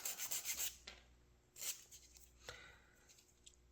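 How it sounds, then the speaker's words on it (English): Wooden frames for a Model Shipways Norwegian sailing pram being sanded by hand: soft, close rubbing strokes, a rapid burst at the start and then a few slower, quieter passes. "I will take and sand these."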